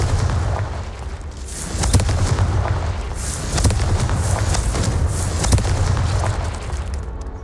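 Booming spell blasts from the video game Hogwarts Legacy, several explosive bursts and cracks recurring over a steady low rumble of combat noise.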